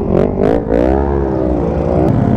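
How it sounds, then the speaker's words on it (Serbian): Kawasaki Vulcan motorcycles at a village motorcycle rally drone loudly up close, with a rising, wavering engine note and a few quick rev surges early on. "Brote, gledaj motora šta je tamo."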